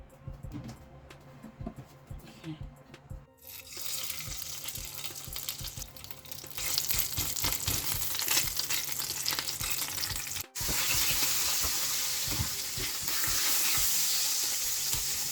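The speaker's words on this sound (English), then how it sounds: "So the oil is hot. I'm going to add in the momone." Momone, a cured fish, drops into hot oil and the quiet frying swells into a loud, steady sizzle with some stirring noise, close and with no talk.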